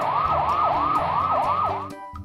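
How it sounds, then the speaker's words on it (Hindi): A police jeep's wailing siren sweeps up and down repeatedly over its running engine, loud and close, then cuts off near the end. "पुलिस सायरन बजाते हुए जीप में वहां पहुंचते हैं।"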